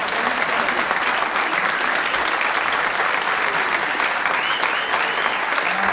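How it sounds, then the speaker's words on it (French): A concert audience at a wind band's film-music performance applauds steadily and loudly for a performer, dense clapping sustained throughout with no pauses. "vous pouvez l'applaudir, il est là, Freddy"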